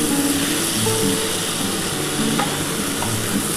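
Ground spice paste frying in a pan with a splash of water added while green bean and potato curry cooks, producing a loud, steady sizzle with stirring scrapes throughout.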